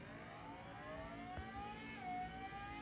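A motorcycle engine in the mobile racing game Traffic Rider revs in a steady, rising whine, faint and continuous with no talk.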